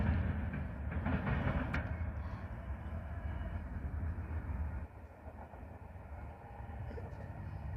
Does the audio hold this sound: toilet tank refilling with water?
no